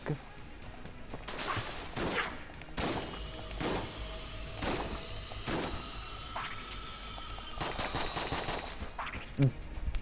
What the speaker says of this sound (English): Damn, all those shots missed.